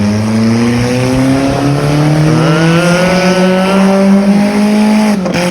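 A loud car engine roars steadily, its exhaust note rising as it accelerates, with a brief sharp shift near the end.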